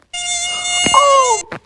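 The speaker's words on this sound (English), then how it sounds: "That mosquito, I hate that mosquito." A mosquito whines in a steady, loud, close drone that rises and bends in pitch before cutting off, with a short extra buzz at the end.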